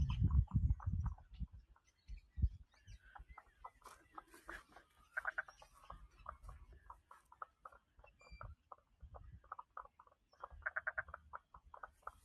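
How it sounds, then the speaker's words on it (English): Frogs croak in a wetland near old industrial ruins, a dense, busy chorus of repeated calls, close and fairly loud, with a few low thumps and some rustling mixed in. "those frogs. Fabulous."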